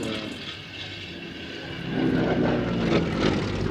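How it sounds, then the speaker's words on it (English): A Yak-11 two-seat trainer with a radial engine flies at an air show at Duxford, its propeller drone growing louder and rougher as it approaches, a broad, continuous engine roar with no voices. "the Yak 3 was further developed with a radial engine and a two-seat cockpit to be the Yak 11 trainer"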